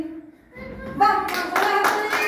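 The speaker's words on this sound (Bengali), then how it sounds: "হাততালি করবে, হাততালি।" Young children at a rural preschool centre clapping during a ball-throwing game, a burst of light, uneven hand claps that starts after a few spoken words and continues under children's voices.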